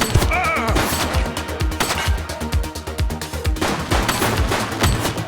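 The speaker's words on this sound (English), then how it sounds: "He's shooting!" Gunfire in the police video game The Precinct: a dense run of sharp shots, some rapid like automatic bursts, loud and close over a steady game soundtrack with no talk.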